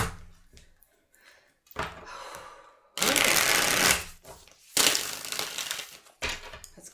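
Several bursts of tarot cards being riffled and shuffled, crisp papery rattling in uneven spurts separated by short pauses, close up.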